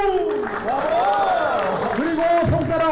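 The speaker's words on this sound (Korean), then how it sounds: "건강하신 분들만큼 박수 한번 다시 부탁드리겠습니다." Applause from an audience at a Korean journal launch ceremony, a steady wash of clapping under a loud voice speaking and shouting over it throughout.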